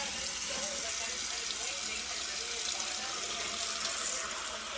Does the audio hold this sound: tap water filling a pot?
yes